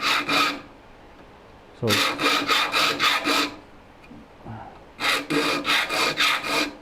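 A file rasping across the teeth of a needle-straight hand saw during its sharpening: three bursts of quick, evenly paced strokes, about six each, close and crisp, separated by quiet pauses.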